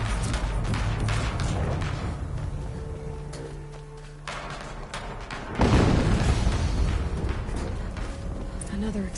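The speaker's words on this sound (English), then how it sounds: "Another explosion." A deep booming explosion erupts in Horizon Zero Dawn Remastered after a stretch of game ambience and voices, a loud rumbling blast that lingers and fades.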